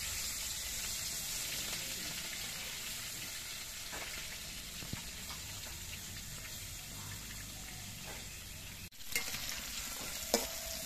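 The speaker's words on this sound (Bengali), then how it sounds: "কড়াইয়ের সর্ষের তেলটা বেশ ভালো মতো গরম হয়ে গেছে। এবার চিংড়ি মাছগুলো আমি ভেজে নিচ্ছি।" Prawns frying in hot mustard oil in a kadai, a steady close sizzle with occasional stirring scrapes and a brief pause near the end, no talking.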